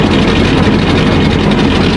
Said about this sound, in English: I'm gonna fire the tractor up, let it run, see how this looks